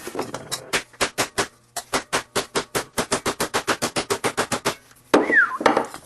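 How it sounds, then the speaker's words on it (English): Rapid, evenly spaced hammer blows on sheet metal over a leather sandbag, about two dozen dull thuds in a steady rhythm, briefly pausing, then a scrape and a few more hits. "You'll see I was hammering from the middle and also close to the edge"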